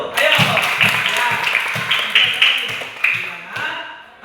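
Elementary schoolchildren in a third-grade classroom clap together for a classmate, a brief burst of close, lively hand claps with scattered taps while a voice chatters over it.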